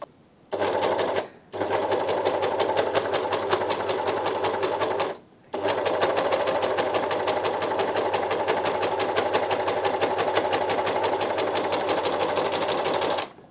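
Elna Elina 792D serger stitching a single layer of fabric at stitch length 2.5 with differential feed, a steady close mechanical whir that runs in two long bursts after a short start, with brief pauses between.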